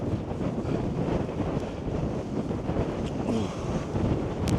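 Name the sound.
strong wind on Snowdon mountain summit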